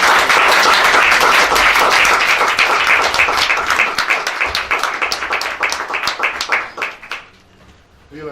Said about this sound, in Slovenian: Jaz bi prosil, da namenimo en lep aplavz našim ustvarjalcem